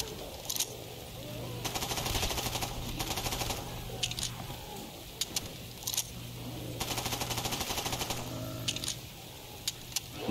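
Rapid automatic gunfire from a video game in Cage Reimagined comes in repeated sustained bursts with short pauses, loud and close, under occasional talk.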